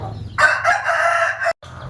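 A rooster at a poultry farm selling native country chickens gives a single close, loud crow lasting about a second, heard alone.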